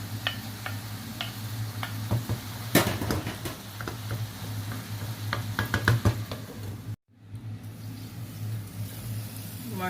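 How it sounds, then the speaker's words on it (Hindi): Radish leaves and spinach hit a pan while cooking for a radish curry, bringing steady frying sizzle, scattered clicks and stirring scrapes, with a brief dropout near the end. "ये अब मैं मूली के पत्ते डालने लगी हूँ। नीचे मूली के पत्ते डालूंगी, ऊपर पालक।"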